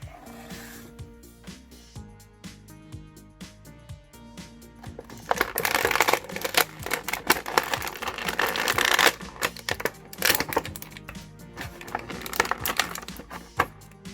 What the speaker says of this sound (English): we're definitely ripping Ezra out right now